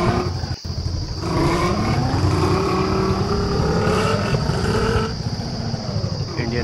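A Bullet motorcycle engine drones steadily while riding in Indian Bike Driving 3D, a loud continuous throbbing roar that rises and shifts in pitch, with a sharp click near the start and no speech.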